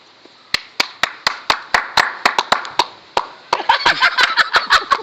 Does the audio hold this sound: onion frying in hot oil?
no